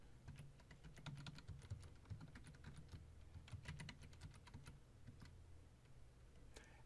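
Rapid, uneven keystrokes on a computer keyboard as a password is entered at a login screen, a steady run of light clicks over a low background hum, with no talking.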